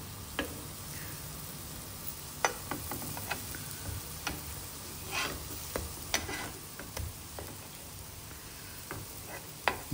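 Sweet potato tikkis fry in ghee on a griddle with a soft, steady low sizzle, broken by scattered clicks and scraping taps of a utensil, fairly quiet and with no talk.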